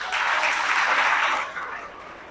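Schoolchildren at a PCOS awareness program applauding themselves, a dense burst of crowd clapping from a large group in a hall that stays loud and then fades slightly toward the end.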